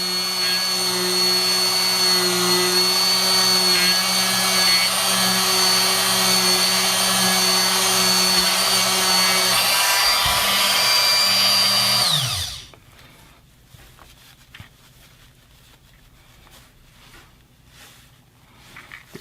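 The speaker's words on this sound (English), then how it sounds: "So I really like this Proxxon tool. Definitely a very stout little Dremel." A Proxxon rotary tool runs at a loud, steady high-pitched whine close by for about twelve seconds, then cuts off abruptly and leaves quiet handling noise.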